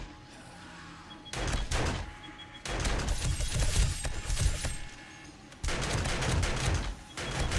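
Automated turrets in 7 Days to Die firing in rapid bursts, loud close clattering volleys separated by brief pauses, with sharp metallic rattles and clinks.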